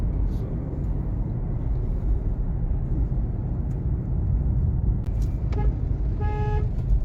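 A Hyundai Venue N Line N8 DCT sounds its horn twice near the end, short tooting blasts heard over a steady low rumble of driving road noise inside the car.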